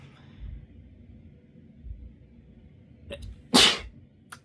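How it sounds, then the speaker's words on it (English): A single sharp sneeze bursts out near the end, loud and close, after a few seconds of quiet low rumbling. "Okay, this is I'm gonna sneeze."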